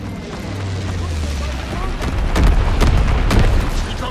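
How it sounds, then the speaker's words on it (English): Heavy booms from incendiary bombs dropped by an enemy bomber in Call of Duty WW2 on the Gibraltar map, a deep sustained rumble building into several loud blasts in the second half. "Enemy bomber, incendiary bombs incoming!"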